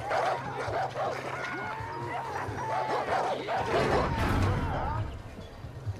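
Several dogs bark, yip and whimper in a Far Cry New Dawn game scene, a busy, continuous overlapping chorus at moderate volume with voices talking over it.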